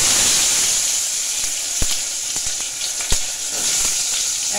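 Potatoes and tomatoes hiss and sizzle steadily in a hot karahi for an egg curry, a loud continuous frying crackle with a couple of sharp pops.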